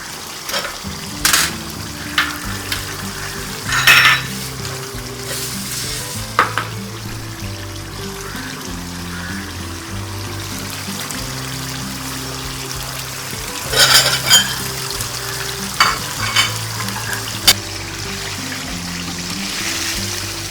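Fenugreek leaves (methi) and meat with green chilies frying in a pan for methi gosht, a steady sizzle with repeated scraping stir strokes and clattering bursts throughout.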